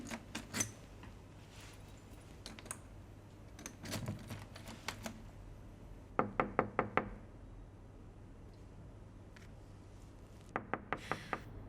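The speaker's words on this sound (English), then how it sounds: "I've been knocking." Knocking on a door: several separate bursts of sharp, rapid raps, each a short cluster of four to six knocks, moderately close, with quiet pauses between them and no talking.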